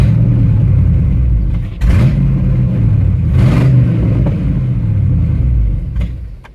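A GMT 400 pickup engine runs rough and loud up close, its low rumble surging and dipping unevenly as it struggles to hold idle after timing adjustments, with brief revs and drops.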